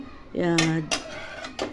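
Tomatoes are tipped from a cooking pot into another pot, giving a few close metallic clinks and scrapes of cookware in quick succession with no talk.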